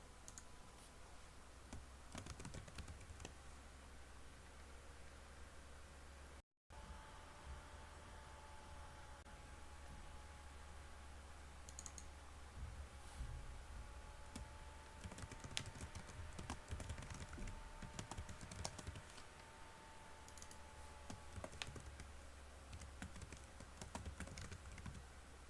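Names being typed on a computer keyboard, a faint, quick patter of key clicks running on and off throughout over a low electrical hum, with a brief dropout early on.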